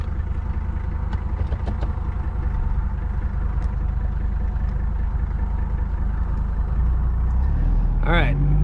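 A 1985 Mercedes W123 300TD estate wagon's diesel engine idles with a low, steady clatter throughout, close and loud, ending in a brief squeal near the end.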